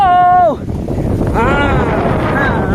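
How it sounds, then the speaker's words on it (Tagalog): Loud, steady wind buffeting the microphone over rough water, with a voice speaking briefly at the start and again later. "Malakas yung alon, narinig nyo naman."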